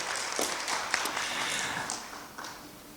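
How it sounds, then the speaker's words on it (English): An audience gives a round of applause at a peace and brain-based education foundation event, steady moderate clapping with scattered sharp individual claps spread across the room, continuing for a few seconds. "we'll do a round of applause again for El Salvador"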